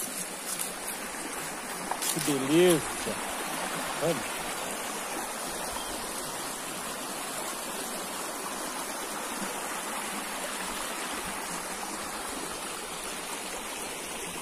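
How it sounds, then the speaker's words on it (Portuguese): A small countryside creek in rural Minas Gerais flows with a steady, continuous rushing wash throughout, while a person briefly speaks over it near the start. "Olha que riacho bacana, gente."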